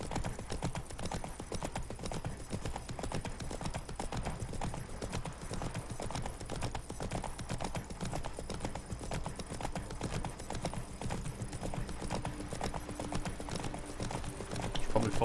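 A horse gallops steadily in The Witcher 3 video game, its hooves beating in a fast, continuous clip-clop rhythm at moderate volume for the whole stretch, with no speech.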